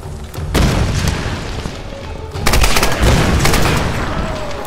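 Gunfire in the video game Tomb Raider: loud, dense booming shots and bursts that fill the whole stretch, with a short lull before the firing picks up again, no voices over it.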